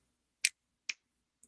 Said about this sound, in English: Not claps, but snaps. One snap.